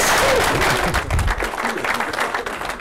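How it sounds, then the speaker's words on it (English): Audience at a real estate investment seminar applauds, a short burst of dense clapping from a crowd at steady loudness, with some low voice-like sound mixed in. "give him a big round of applause"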